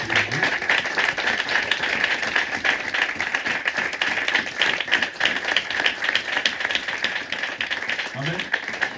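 A French-speaking church congregation applauds during a Sunday service, a dense, steady wave of many hands clapping, close and loud throughout, with voices faintly mixed in beneath.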